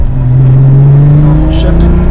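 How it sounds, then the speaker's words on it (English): A 1995 Nissan 300ZX Twin Turbo rolls through a hard left U-turn, its engine humming low and steady with a slight rising tone, heard close from inside the car under speech. "Here's a U-turn, a good test of the axles."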